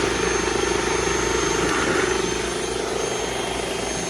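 A steady, loud motor drone with a whooshing airflow hiss runs throughout, the sound of a secondhand vacuum cleaner operating close by during a suction test.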